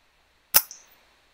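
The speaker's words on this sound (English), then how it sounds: "this is my next couple of shots after a quick correction" A single sharp crack from an FX Dreamline air rifle during grey squirrel control from a pop-up hide, close and loud, followed by a faint short ring or impact a moment later.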